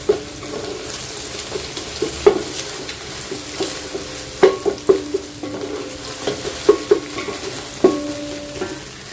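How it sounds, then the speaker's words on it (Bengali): An egg sizzles in oil in a pan, fried first for fried rice, with a steady frying hiss and repeated clinks and scrapes of a utensil stirring it. "এখানে ফ্রাইড রাইসের জন্য ডিমটা আগে একটু ভেজে নিলাম"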